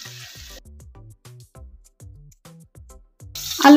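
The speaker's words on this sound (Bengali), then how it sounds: "এবার আমি আলুগুলোকে ভেজে নেব" Potatoes frying in hot mustard oil for a capsicum dish give a steady sizzle with a run of short, evenly spaced stirring knocks. The frying swells loud and bright right at the end.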